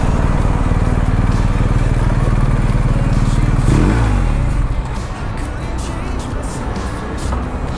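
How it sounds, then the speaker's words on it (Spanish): A Ducati motorcycle engine idles with a steady low rumble, then blips briefly before settling back into a quieter idle. "Aquí está la Ducati de Osvaldo"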